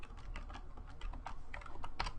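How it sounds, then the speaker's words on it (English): Fingers type a message on a computer keyboard in a quick, close run of light key clicks, steady and uninterrupted, with no talking. "we're just going to type message."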